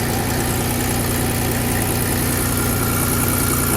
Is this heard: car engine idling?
yes